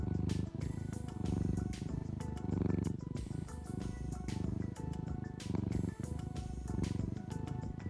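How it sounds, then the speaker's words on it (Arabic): A domestic cat purring, a continuous low rhythmic rumble with regular pulsing breaths, close and steady throughout, with what sounds like soft background music underneath. "هناك الخرخرة العادية المعتادة والتي تعني رضا القط وسعادته"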